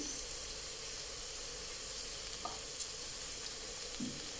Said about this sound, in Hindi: ले जी, हमारी अब हो रही है भिंडी फ्राई।